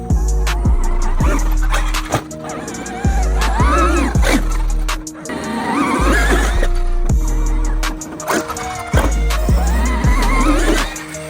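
A Traxxas Funco Sand Car RC car drives over rough ground and jumps, with repeated sharp thumps on landing and a whining electric motor surging and falling in bursts, close by.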